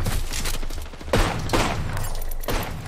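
Repeated gunfire from a sniper rifle in the video game Apex Legends, several sharp broadband cracks roughly half a second to a second apart over a dense, continuous background of battle noise and rumble, loud and fairly close.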